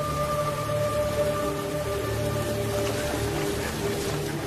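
Heavy rain and storm as a sound effect in a German documentary radio play about the Battle of the Teutoburg Forest, a steady dense downpour hissing throughout with low rumbling underneath, no voices.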